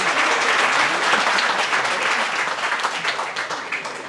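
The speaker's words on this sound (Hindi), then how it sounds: "कपल के लिए तालियां भाई, तालियां।" Applause from a seated audience at a Delhi Police selection celebration event for a married couple standing up, steady dense clapping throughout that tapers slightly toward the end.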